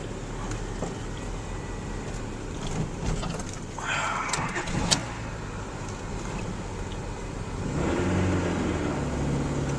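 A car with a manual stick shift being driven, its engine rumbling steadily close by with a brief rise around the middle and a louder surge near the end.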